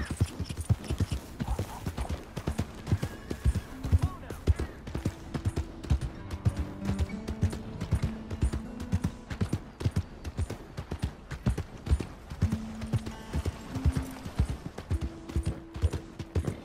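Horse hooves clip-clop steadily on the ground in the Red Dead Redemption 2 video game, a continuous brisk rhythmic beat with faint game music tones in the background.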